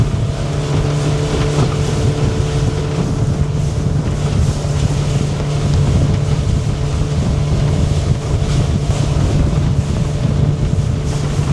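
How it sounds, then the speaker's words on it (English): Strong wind buffeting the microphone over a steady droning motorboat engine on a windy day near downtown Miami, continuous and loud throughout. "It's a really windy day today"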